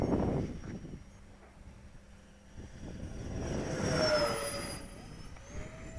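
E-flite A-10 Warthog radio-controlled model jet with twin 64mm electric ducted fans flying overhead, a whooshing whine that swells as it passes and fades, with pitch shifting as it moves across the sky, faint and outdoors.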